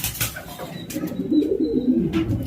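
Racing homing pigeons coo softly in a loft, a low throaty burbling rising near the end, close by with faint rustles.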